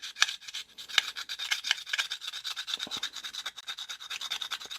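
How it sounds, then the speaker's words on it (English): A knife edge grinds against a cheap 180 grit diamond plate in repeated rasping back-and-forth strokes, close and fairly quiet, with no talking. "I'm going to take this diamond plate. This is 180 grit, one of those cheap ones from Amazon here, and I'm going to destroy this edge."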